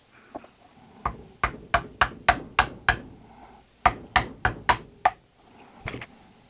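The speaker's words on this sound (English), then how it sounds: "I'm just gonna whack this nut off of there with a wood block" A wood block is struck repeatedly against the nut of a Pango Music Explorer Kit guitar to knock it off: about fourteen sharp, close knocks in two quick rhythmic runs separated by a short pause.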